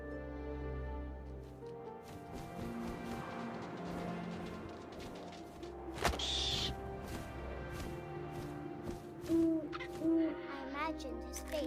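An owl hoots in the video game What Remains of Edith Finch, a single clear call rising over a steady ambient game soundscape of wind and low music, with a few soft tonal hoots later.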